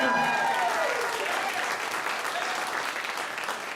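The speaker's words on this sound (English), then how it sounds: "You can clap for that" Live audience applause at a country music livestream concert, a steady crowd clapping that stays loud and dense throughout, with faint voices mixed in at the start.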